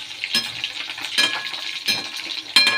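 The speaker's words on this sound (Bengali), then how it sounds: "আর একটু লাল লাল করে ভাজলে কি সুবিধা হয়।" Chili chicken frying in hot oil in a home kitchen, a steady close sizzle broken by several sharp bursts of stirring and clinks of a utensil against the pan, with no voices.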